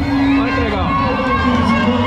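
A crowd cheers from the grandstand at the finish line of the Curitiba marathon, a dense wash of voices and shouts that stays loud and continuous throughout.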